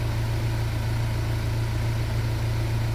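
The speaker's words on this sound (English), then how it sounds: "Wait till the engine goes." A restored Audi A4 engine runs steadily with a low, even hum and no breaks, close and moderately loud, alone without voices.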